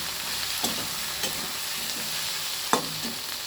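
Chili powder sautéed in hot oil in a pan while cooking a tengra fish curry, a steady close sizzle broken by a few scraping stirs of the spoon, no talking.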